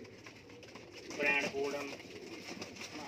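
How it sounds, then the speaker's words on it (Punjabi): Pigeons offered for sale coo softly in the background while someone talks over them nearby. "ਦੇਖੋ ਬਾਈ, ਨਵੇਂ ਪਰਾਂ ਦੇ ਕਬੂਤਰ ਆ ਬਾਈ"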